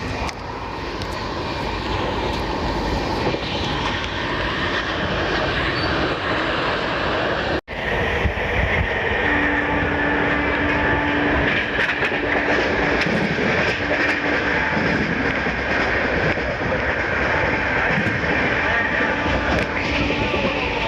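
An Andhra Pradesh Sampark Kranti Express train runs on the route from Hazrat Nizamuddin to Bhopal. Its steady, loud rumble and roar fill the whole clip, and a sustained horn-like tone enters partway through, with no speech.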